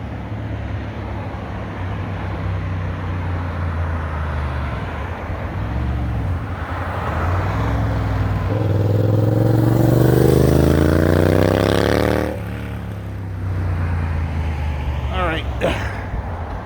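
A Suzuki SV650 motorcycle rides past, its exhaust note rising as the engine revs and climbs through the gears, loud and close, over steady road noise, then fading, with a brief higher chirp near the end.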